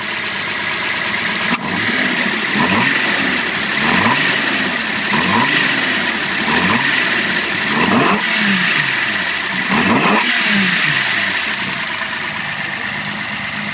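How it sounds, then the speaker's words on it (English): A 360HP Datsun Fairlady S30Z with carburettor and manifold revs repeatedly and aggressively, roughly every two seconds. Each rev swells and falls over a loud, rough idle, heard close with no talking. "Give it a bit of a rev"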